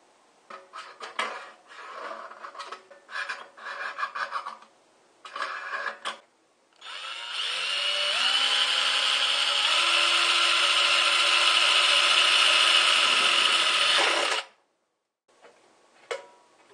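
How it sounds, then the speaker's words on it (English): A power drill bores an air inlet hole in the side of a steel can for a homemade rocket stove: short stuttering bursts first, then a sustained whining grind for about seven seconds with rising pitch steps before it stops abruptly. "now I'm going to mark off and drill the hole for the air inlet on the side"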